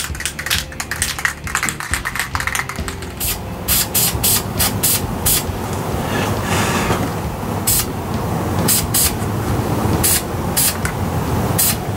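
Flat spray paint hisses from an aerosol can onto gun props in short, loud, close bursts, with a faint rattling or tapping at the start and no talking.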